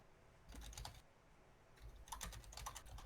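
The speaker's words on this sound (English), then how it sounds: "Someone's aggressively typing right now." Aggressive typing on a computer keyboard, two fast, hard bursts of clattering keystrokes separated by a short pause, close and clear with no talk.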